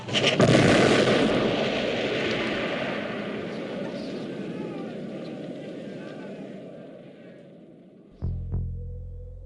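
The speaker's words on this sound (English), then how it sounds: "MacCready tosses a stick of dynamite, and the creature explodes into a million pieces." A stick of dynamite blows up a creature: a loud, broad roaring blast that rumbles and slowly fades over several seconds, then a couple of sharp thuds near the end.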